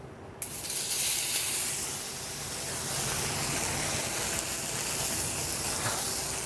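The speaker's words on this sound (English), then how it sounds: "I'm gonna add a little bit of simple olive oil, not virgin, and quickly cook the steak." Steak searing in hot, lightly smoking olive oil in a pan, a loud, steady broadband sizzle that starts abruptly as the meat hits the oil and then holds evenly.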